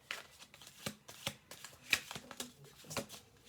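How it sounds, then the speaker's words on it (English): A deck of tarot cards is shuffled by hand in quick, papery riffles and flicks, with sharp bursts at an irregular rhythm, close and clear with no voices. "I'm gonna do one more shuffle through"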